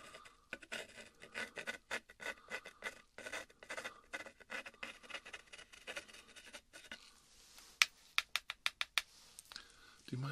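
ASMR role-play scraping, close and crisp, as repeated rhythmic scratchy strokes in steady bursts that end in a run of sharp, louder clicks and taps, with soft sounds between.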